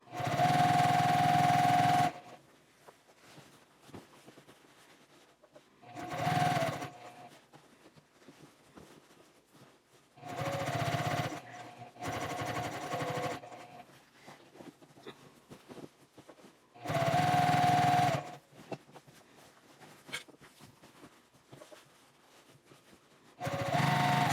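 A tote bag stitched on a sewing machine in several separate bursts of loud, close whirring, each lasting a second to a few seconds, with quiet pauses between runs.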